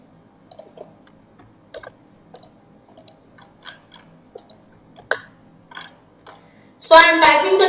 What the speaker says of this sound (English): And then I am clicking the run button.